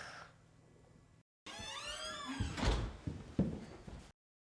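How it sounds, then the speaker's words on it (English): A door sound effect added to a TV commercial soundtrack, heard as a dull thump and rattle after a short gap, standing alone with no talk. "And some added door noise."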